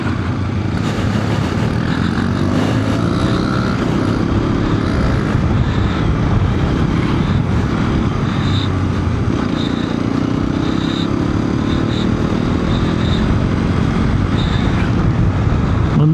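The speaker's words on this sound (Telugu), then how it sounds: "ఇంజిన్ చాలా రిఫైన్డ్గా ఉంది." A Hero Xpulse 210 dual-sport motorcycle engine under way at speed, a loud, steady drone mixed with rushing wind noise that runs unbroken throughout, with no voices.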